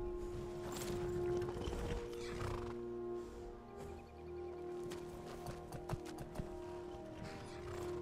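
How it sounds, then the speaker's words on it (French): A horse in the Skyrim video game, heard with a whinny near the start, then clip-clopping hooves in a steady rhythm over game background sounds. "Et on retourne à cheval."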